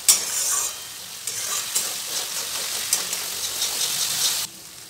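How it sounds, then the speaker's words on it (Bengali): Spice paste mixed with ground roasted cashews stir-fries in a pan for a no-onion, no-garlic potato dum, with a steady sizzle broken by repeated scraping stirs that stop abruptly near the end. "আবারও মশলাটাকে কষিয়ে নেব"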